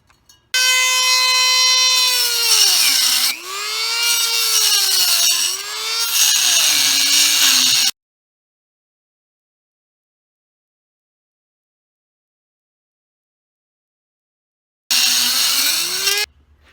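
Exhaust tailpipe being cut freehand with a power tool, a loud, harsh, high-pitched metallic screech whose pitch dips and rises over several seconds, then silence before a short second burst.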